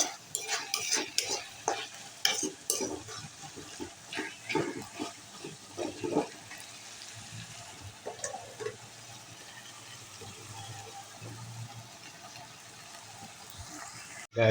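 Spice paste for a chicken roast is sautéed and stirred in a pan, with a soft sizzle under repeated scraping strokes that are busy early on and then settle into a steady fry.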